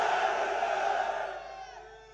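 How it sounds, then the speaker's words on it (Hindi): Large crowd at an election rally in Aurangabad, Maharashtra, roaring a slogan in unison, loud and massed, then fading away over about two seconds. "शहर में सिर्फ ये नारा गूंजे, ऐसा जोरदार नारा लगाना।"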